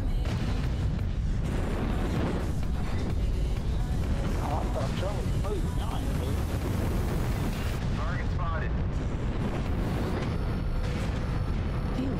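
Heavy mech autocannon fire and impacts in a MechWarrior battle with a Crusader mech, dense booming bursts and explosions packed continuously under excited talk.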